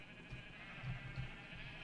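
A sheep in Minecraft bleats twice in quick succession, faint and short, over a quiet game background.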